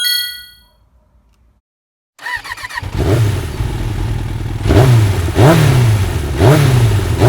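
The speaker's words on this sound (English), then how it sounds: "I could take my brother's quad." A quad bike's engine starts up after a bright metallic ding and clang, then runs loud and close with repeated throttle blips rising and falling in pitch.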